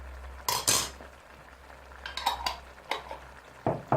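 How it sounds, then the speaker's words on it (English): A spoon clatters against a pot while Thai curry paste is stirred into butternut squash, giving a few close, sharp scrapes and clinks separated by quiet pauses. "We're going to give this a good stir."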